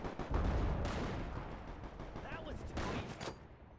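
Gunfire in the video game Enlisted, with Commonwealth forces fighting in the Pacific: a mix of rapid machine-gun bursts and single distant shots, fairly quiet and rumbling, over battlefield noise and faint voices.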